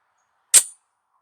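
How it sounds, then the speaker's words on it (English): A single sharp gunshot from a Glock 17L pistol with a red dot, firing steel-case 9mm 115-grain FMJ ammo, rings out once, loud and close, in otherwise quiet surroundings. "The steel case ammo, going to run it through the Glock"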